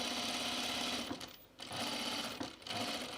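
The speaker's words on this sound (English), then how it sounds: "I'm gonna go all the way around this box. We're gonna stop at the needle, stop with our needle down at the top there." A sewing machine stitches around a box shape on plaid fabric, running steadily with two brief pauses as the needle stops and restarts, close and fairly loud.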